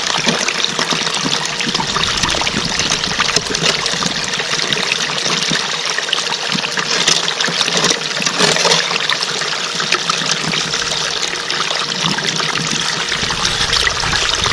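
Steady, loud rushing and trickling of water carrying clay paydirt through a Gold Hog Multisluice in field mode outdoors, a continuous close wash with no pauses from start to finish.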